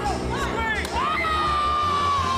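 Children shout and cheer together in a karate dojo, a lively crowd of excited high voices with whoops rising and falling, under a steady roar of the room.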